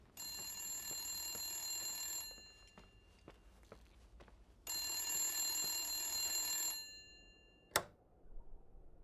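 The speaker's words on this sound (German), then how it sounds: "hier ist irgendwo ein Telefon" A telephone rings in the game The Suicide of Rachel Foster: two long, bright electric bell rings separated by a pause with footsteps, followed by a sharp click, fairly quiet and with no talk.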